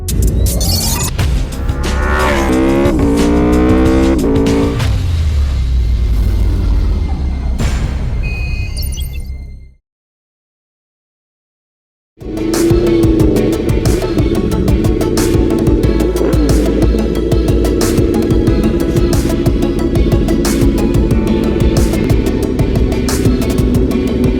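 An Aprilia motorcycle engine revs loudly and close, cuts to silence for a couple of seconds, then restarts and holds a steady, buzzing idle with rapid firing pulses.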